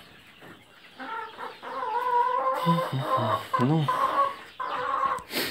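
A hen clucks and murmurs close by in short, throaty bursts, with a brief spoken word at the start.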